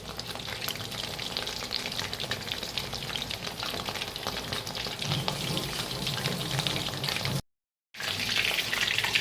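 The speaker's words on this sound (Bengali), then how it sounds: "এভাবে এক একটা করে চিংড়ি মাছ ব্যাটারে ডুবিয়ে ফ্রাই করে নিতে হবে।" Prawns dipped in batter fry in hot oil with a dense, continuous close-up sizzle and crackle that cuts out briefly near the end and then returns.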